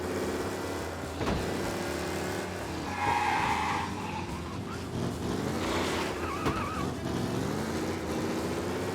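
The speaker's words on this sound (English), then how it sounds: "Be alert for a race car out on the roads tonight." Race car in the game Mafia: Definitive Edition, engine roaring and tires skidding in a continuous loud pass, with a brief sharp burst early on and tonal whines rising midway.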